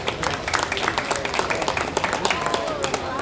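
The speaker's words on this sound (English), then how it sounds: "Let's give him a round of applause" An audience at a livestock show claps in a sustained round of applause, busy and steady throughout, with speech mixed in underneath.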